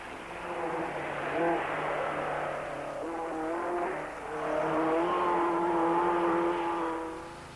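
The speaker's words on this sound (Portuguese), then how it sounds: "Outra grande aposta foi o Alpine Renault, um carro apaixonante." An Alpine Renault rally car engine revs hard in a 1970s rally, rising and falling in pitch as it accelerates and shifts, loud and close with a brief dip before climbing again under a faint voice.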